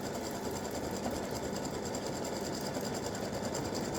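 A sewing machine runs a triple stitch in a fast, even, continuous whir of rapid needle strokes, close and steady the whole time with no voices.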